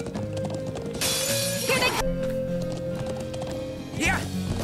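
Horse hooves clip-clop in a steady rhythm in the video game Trails of Cold Steel, with a whinny and game sound effects layered over music.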